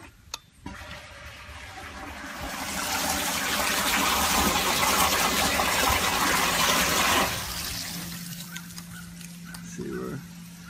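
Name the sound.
hydroponics pump pushing water up to the towers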